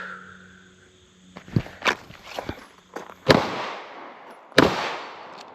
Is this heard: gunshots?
yes